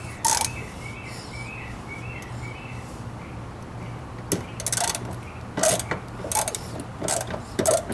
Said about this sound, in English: quarter-inch socket with a number 2 Phillips head tip to speed things along.